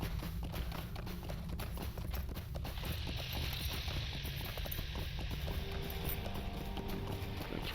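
Galloping horse hooves in The Lord of the Rings Online, a steady, continuous clip-clop running throughout at moderate loudness, with ambient game sounds behind.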